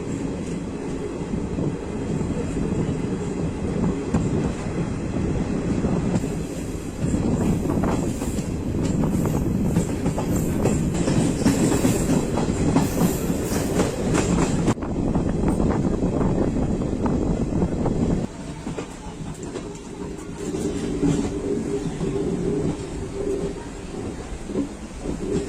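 A train runs along the line near Pamban bridge approaching Rameswaram station, a loud continuous rumble and clatter of wheels and carriages with shifting intensity throughout, no voices.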